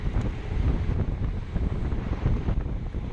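Steady wind roaring across the microphone while cycling into a slight headwind along Highway 169 during a criterium race, a loud, constant low rumble with no talking.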